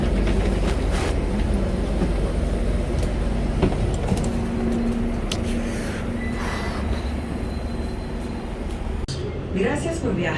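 Los Angeles Metro train ride heard from inside the car: a constant loud rumble of wheels and motor with faint squeals and rattles, a voice speaking faintly under the noise.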